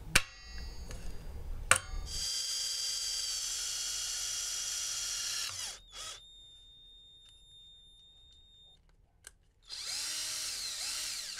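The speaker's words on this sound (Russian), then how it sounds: "Керню и сверлю отверстие." A power drill bores a hole in a handmade bullet-shaped fishing lure cut from a metal fitting. A sharp start is followed by a steady high whine that winds down, then a thin tone, a click and a final burst of drilling.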